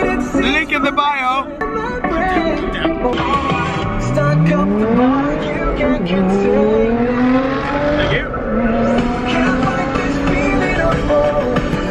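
Sports car engine revving on a street in Monaco, a loud rising engine note sweeping upward repeatedly with throttle blips and possible tire noise, while people talk excitedly over it.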